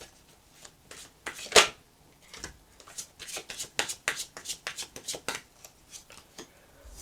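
Tarot cards are shuffled by hand, a series of crisp riffling and slapping bursts in uneven rhythm, close and fairly quiet, with one sharper snap early on.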